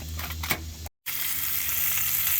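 A pound of thin-sliced bacon frying in a pan, giving a steady close sizzle with crackling pops, briefly cut off by a short gap of silence before the hiss resumes.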